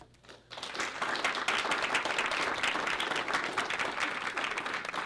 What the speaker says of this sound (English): give a hand clap for our first group of speakers